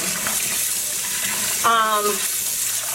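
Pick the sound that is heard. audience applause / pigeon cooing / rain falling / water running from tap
water running from tap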